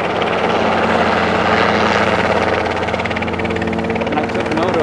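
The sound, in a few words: helicopter flying overhead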